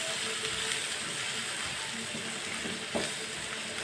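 Eggs fry and get stirred together in a hot pan, a continuous moderate sizzle with soft scraping of the spoon and a small clatter near the end, no voices.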